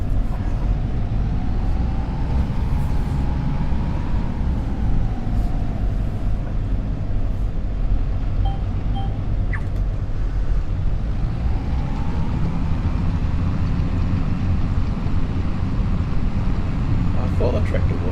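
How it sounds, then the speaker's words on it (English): Tractor engine straining under load in Farming Simulator 25 during winter, a continuous loud low droning rumble with a faint wavering tone riding above it, steady throughout. "I thought the tractor wasn't struggling hard enough"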